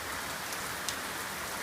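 Heavy rain pours steadily onto a garden, a dense continuous hiss of drops spattering on surfaces, loud and close with no talking.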